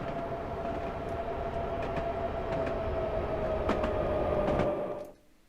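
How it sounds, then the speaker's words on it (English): A London Underground Piccadilly line D78 Stock train arriving, a loud sustained rumble with a steady whining tone and occasional clicks. It holds for about five seconds and then cuts off abruptly. "There comes the Piccadilly line."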